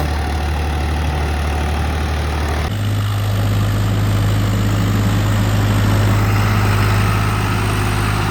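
A Swaraj 855 4x4 tractor engine runs steadily in a rain-soaked, muddy field with no driver aboard. The loud, close diesel drone shifts pitch slightly partway through and continues with no talk.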